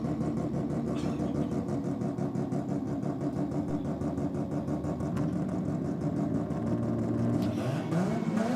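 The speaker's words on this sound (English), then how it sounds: "just while this rotary does its burnout" A rotary-engined race car doing a burnout at a drag racing event: a loud, steady engine roar with a rough, buzzing pulse, holding close and continuous, rising slightly near the end.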